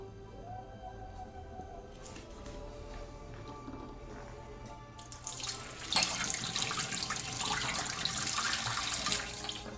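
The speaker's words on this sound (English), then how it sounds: "is that actually washing the raspberries?" Water runs steadily from a kitchen tap over raspberries being washed in a sink. It starts as a soft trickle and swells into a louder, fuller splashing rush partway through, with no talking.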